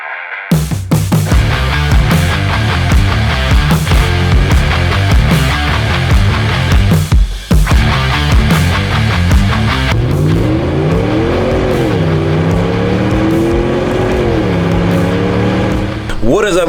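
A 2019 Ram Rebel pickup with new American Racing Headers exhaust revs loudly in the second half, its deep note rising and falling in long sweeps after a busy, beat-heavy opening stretch.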